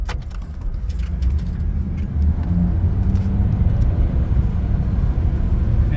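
A 1993 Chevy Beauville van with a 350 V8 and 4L60 four-speed automatic drives through rush-hour traffic, its engine a loud, steady low rumble with road noise heard from inside the cab and no talk.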